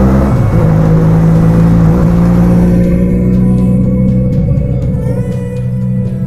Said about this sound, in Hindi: तो बाइक को करते हैं वार्म अप